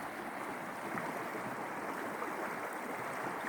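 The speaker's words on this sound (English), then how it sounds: "the sound of the river is very calming" The Walker River flows on a brisk, cool day in a steady, broadband rush of water that stays even and moderately close throughout, with no voices.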